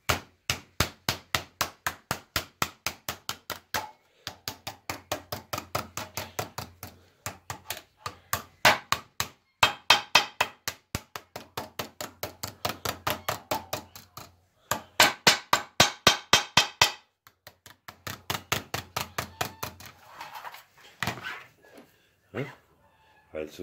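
A hammer taps sheet tin in long, rapid trains of ringing metallic blows, close and steady with short pauses, a few softer knocks near the end, and no voices.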